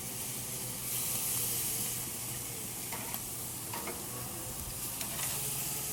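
Steaks sizzle on a grill, a steady loud hiss with brief scraping taps as they are flipped, continuous and close-miked.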